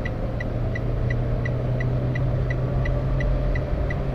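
A 2018 Toyota Agya G 1.2 automatic with TRD trim accelerates toward 100 km/h on a toll road, a steady engine drone and road rumble heard from inside the cabin, with a faint regular ticking over it.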